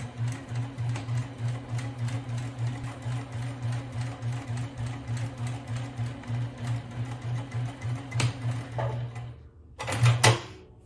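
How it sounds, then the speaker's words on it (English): A sewing machine stitches a DIY lunch bag with a steady, rapid mechanical whir and pulsing rhythm for about nine seconds, then stops before a short final burst of stitching. "Okay, we're here at the sewing machine. I'm going to remove my sewing pin and I'm going to start to sew."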